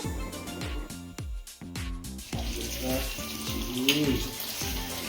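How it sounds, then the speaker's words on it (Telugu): Marinated chicken 65 pieces frying in hot oil, a bright bubbling sizzle running throughout under a loud repeating rhythmic melodic sound, with some vocal-like sounds mixed in. "ఆ చికెన్ ఫ్రై చేస్తున్నాను"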